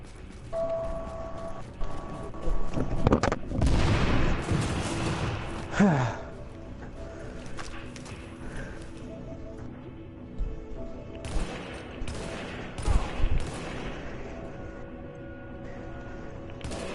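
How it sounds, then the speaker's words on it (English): Gunfire in the video game Assassin's Creed, a burst of loud shots and blasts early on, then scattered quieter pops and impacts over low ambient game sound. "Keep firing!"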